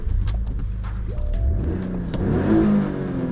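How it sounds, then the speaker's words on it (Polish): A 2002 Alfa Romeo 156 GTA with its 250-horsepower six-cylinder engine revs hard, the pitch climbing in rising sweeps that shift and climb again, loud and close with a throaty mechanical whir and no talking. "ten silnik, 6-cylindrówka, która nie brzmi jak inne 6-cylindrówki"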